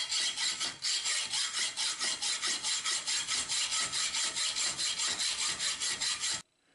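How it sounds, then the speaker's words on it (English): A hacksaw cuts off protruding handle pins on a remade Ontario Knife Company short chef's knife, a steady run of quick, even back-and-forth rasping strokes, close and alone, ending abruptly. "We're just going to trim these pins off with a hacksaw."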